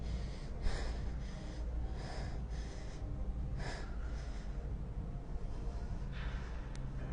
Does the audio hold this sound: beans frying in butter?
no